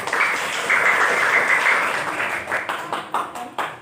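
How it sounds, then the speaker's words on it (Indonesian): A classroom of students claps for a presenting group, dense applause that swells, then thins into a few separate, louder claps near the end. "Tepuk tangan dulu kelompok Ika"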